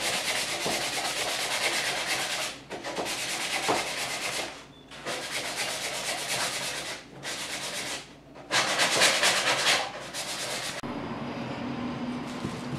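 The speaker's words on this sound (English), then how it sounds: "So just scuff the wood up a bit so the glue makes a good contact." Wood is scuffed by hand before gluing: bursts of coarse rubbing and sanding strokes, each lasting a few seconds with short pauses between, close and fairly loud with no talk.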